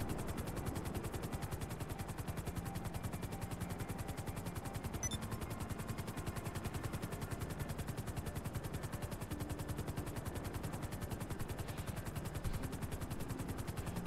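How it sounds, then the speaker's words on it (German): Yacht defence guns firing at a jet in GTA Online, a continuous rapid machine-gun rattle that stays steady and fairly distant for the whole stretch, with no talking over it. "sie hat einfach versucht, den Jet abzuschießen."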